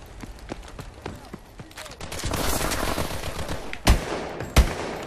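Call of Duty: Advanced Warfare gunfire in a hardcore multiplayer match, rapid bursts of automatic shots building into a dense fusillade with two sharp loud blasts near the end.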